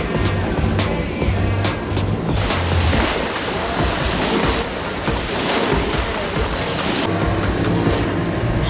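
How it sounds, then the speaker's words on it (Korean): A yacht sailing from Japan toward Tsushima past the Kanmon Bridge pushes fast through rough waves in poor visibility. Loud, steady rushing water and wind fill the whole stretch, with an engine drone underneath and surges as the hull breaks through swells. "거센 파도를 뚫으면서 속도를 더욱더 올려봅니다"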